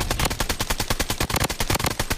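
Rapid automatic fire from an AK47 in the shooter Blood Strike, loud, close and continuous, a dense rattling burst of evenly spaced shots with no pauses.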